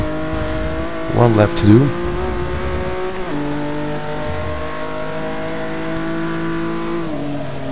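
Race cars in Forza 6 on the Silverstone GP circuit, engines droning steadily with a brief revving surge and gear changes, while someone talks over the top.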